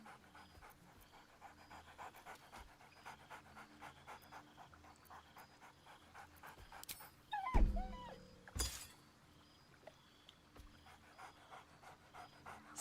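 Dog companion in Baldur's Gate 3 panting rapidly and excitedly throughout, with a brief louder clatter and yelp-like burst midway, all fairly faint.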